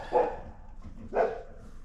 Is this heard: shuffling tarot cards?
no